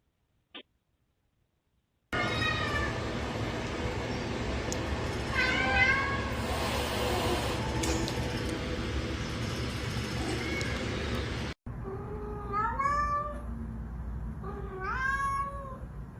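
A cat meows repeatedly in a run of rising and falling calls, close and fairly loud, over a steady background bed with no one talking.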